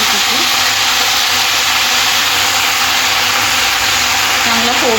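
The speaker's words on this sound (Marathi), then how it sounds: "चांगला फोडणीचा तडतडलेला आवाज आलेला आहे." Loud, steady sizzling and crackling of a tempering of cumin, mustard seeds, garlic and green chillies in hot oil for methi bhaji, a broad hiss throughout with faint voice traces.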